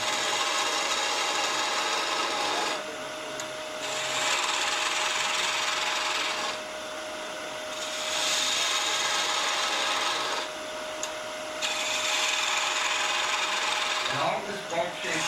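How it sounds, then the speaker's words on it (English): Woodturning gouge with its bevel riding at 45 degrees cutting a bead groove into spinning wood on a lathe, a steady raspy scraping that swells and eases in long strokes, close and alone. "So if I want a beat groove, I put my bevel in a 45 to the wood, just follow it in."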